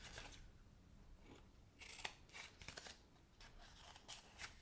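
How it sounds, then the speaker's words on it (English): Scissors snipping paper during a stamping and paper-box craft session, several quick crisp cuts in short bursts against quiet room tone, close to the microphone. "So now I gotta snip it with my scissors."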